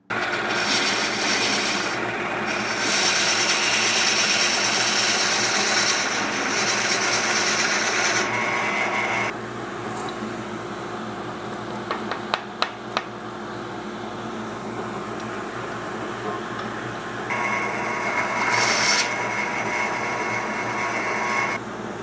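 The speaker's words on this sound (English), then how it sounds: "Now I'll go drill this hole first" Power drill boring a hole in a wooden workpiece for a cantilevered bottle stand, a steady high whine running for several seconds, easing off, then spinning up again, with a few faint knocks in between.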